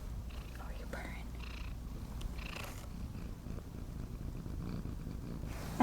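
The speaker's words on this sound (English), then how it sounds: "I hope you guys can hear her purring." A cat purring softly up close in a quiet room, a faint steady low rumble with breathy rhythmic pulses and a few light whispered sounds.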